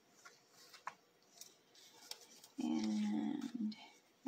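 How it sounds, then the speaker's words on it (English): Cardstock scored at 4 1/4 inches is folded and then rubbed firmly with a bone folder, giving a few soft taps followed by a loud, close, sustained scraping burnish lasting about a second. "we're going to go ahead and fold that and burnish that with our bone folder"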